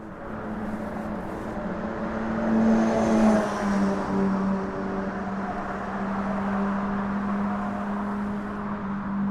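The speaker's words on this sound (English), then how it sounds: "Here's all the motor vehicle traffic going towards Brooklyn" Motor vehicle traffic crossing the Williamsburg Bridge toward Brooklyn, a steady engine drone with a low hum and a swell as a vehicle passes near, continuous with no talk.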